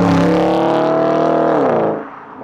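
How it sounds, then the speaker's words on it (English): An Audi S5 V8 engine revs with a deep, steady rumble close by, holding a strong harmonic drone before the revs drop away and fade near the end. "it's great to have a bit of V8 rumble"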